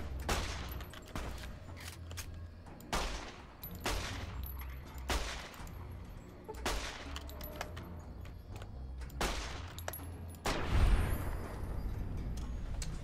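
Gunfire in Fallout: New Vegas, a string of loud, sharp shots roughly every second, each with a short ringing tail, over a low game background with no talking.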